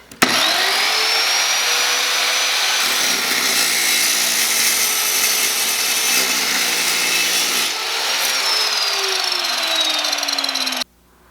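A Trajan Q700 7-inch chop saw cuts through clamped metal with a loud, continuous high-pitched grinding whine that spins up, holds steady with slight pitch changes as the blade bites, then cuts off abruptly.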